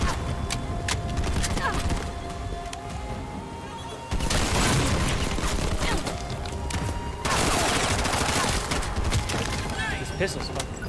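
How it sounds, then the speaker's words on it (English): Pistol fire in the action shooter Bright Memory Infinite, rapid dense shots packed over loud game effects and a thick background wash, continuous for several seconds. "This pistol's fucking insane."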